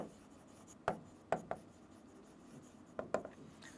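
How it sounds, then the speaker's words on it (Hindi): Pen strokes on paper while accounting entries for rent paid and rent outstanding are written, coming as short scratchy bursts in two clusters of two or three, close and fairly quiet. "तो यहाँ लिख देता हूँ मैं rent paid and rent outstanding, दोनों ही लिख दो।"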